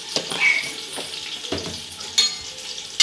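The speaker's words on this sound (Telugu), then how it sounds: "చూసారండి ఉల్లిగడ్డలు ఎలా వేగినాయి, అల్లం వెల్లిగడ్డ, పచ్చిమిర్చి, ఉల్లిగడ్డ అన్నీ ఎట్లా వేగినాయి చూసిందా." Chopped onions, green chillies and ginger-garlic paste sizzling in a hot pan for veg fried rice, with steady frying crackle and a few scraping stirs of a spoon against the metal, close up with no talk.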